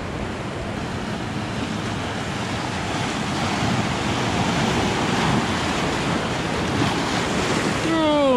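Ocean waves washing around coastal rocks, a continuous rushing surf with wind buffeting the microphone, swelling slightly louder toward the end.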